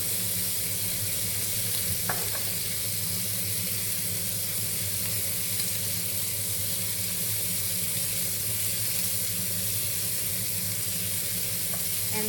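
Food sautéing in a frying pan for Swedish plankstek, a steady loud sizzle and hiss that runs unbroken throughout, with a couple of faint clinks of stirring.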